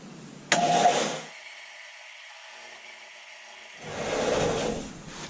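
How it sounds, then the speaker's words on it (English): A sander trims the edge of a Kydex wallet, starting with a sharp bang-like onset and a loud grinding whir, falling quiet, then a second grinding pass, close by and with no talk. "So now we're going to trim this down using the sander."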